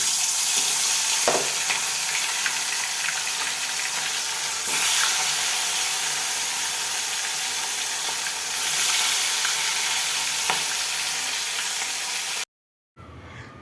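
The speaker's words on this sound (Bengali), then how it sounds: "তেলটা মনে হচ্ছে গরম হয়ে গেছে আমার, তো মাছগুলো আমি এক এক করে দিয়ে দেবো" Steady, loud sizzling of fish frying in hot oil fills the scene, with a few faint clinks and a brief drop to near silence at the end.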